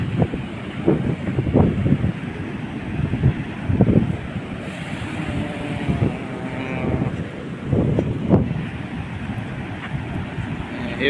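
Sea waves roll onto a monsoon shore in repeated surging bursts, with gusting wind buffeting the microphone throughout.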